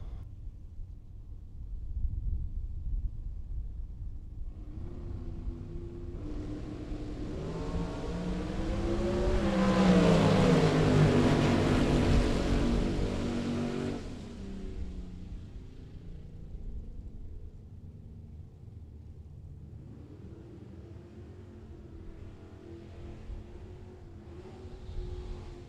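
A red 1967 Chevelle drag car making a bracket race run at a Las Vegas track, its engine roaring up to a loud peak mid-clip and then fading as it pulls away down the strip, with a steady low crowd and track rumble throughout.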